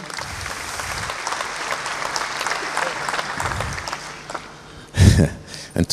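A hall audience at a government forum in Bahrain claps warmly and continuously, steady applause that swells near the end with a few louder bursts, while a voice speaks over part of it.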